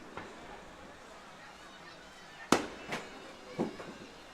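Fireworks finale booms over a Giants versus Big Train baseball game: one loud crack followed by a few lighter, scattered pops over a steady background murmur.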